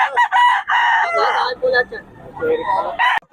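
A rooster crows in several harmonic bursts, fairly close, with a brief pause midway and a final short call, while someone talks over and between the crows.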